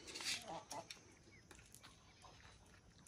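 Nearby rooster clucking at a rural home, a few faint, scattered clucks among low background noise, with no talk over them.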